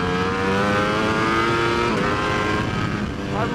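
A 2019 Ducati V4S superbike's V4 engine screams at high revs on a race track, a loud, steady, close engine note with a slight dip near the end, under rushing wind.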